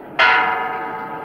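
A cracked church bell is struck once and rings loud and close, its dull, slightly sour tone decaying slowly with a lingering hum.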